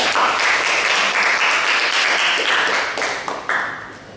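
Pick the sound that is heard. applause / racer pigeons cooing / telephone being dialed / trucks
applause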